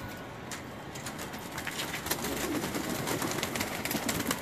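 High flying pigeons cooing, soft repeated coos over a dense bed of bird chatter and background noise that grows slightly louder toward the end, with no speech.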